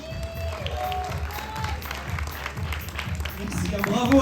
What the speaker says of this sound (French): Merci, bravo, applaudissements